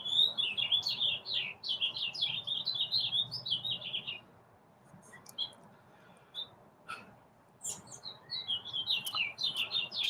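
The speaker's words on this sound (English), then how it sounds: "Can you hear the birds?" Birds in a backyard trill in busy, high chirping phrases, pause for a few seconds with scattered faint calls, then resume the same rapid song.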